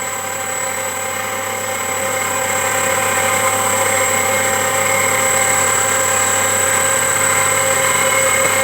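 A DC series motor runs under a load test of around 6 kg at roughly 1800 RPM, giving a steady, loud electrical whine with a constant hum throughout and no voices.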